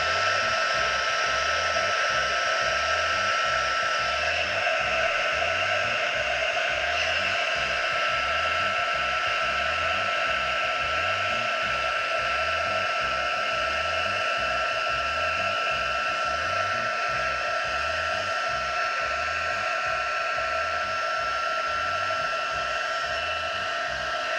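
A heat gun blows steadily on embossing powder, giving a loud continuous airy whoosh with a fan hum and a regular low pulsing underneath, unchanged for the whole stretch and with no talking.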